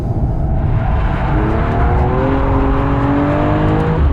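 A 2019 Mercedes-AMG CLS53 sedan is driven hard into a corner, its engine droning loudly and close while the tires squeal in long rising whines as it understeers.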